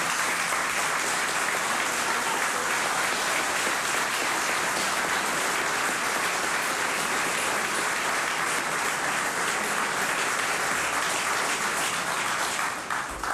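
An audience at the handover ceremony of the Pavlos Melas military camp in Thessaloniki applauds: dense, sustained clapping from a large crowd, steady and loud for about thirteen seconds.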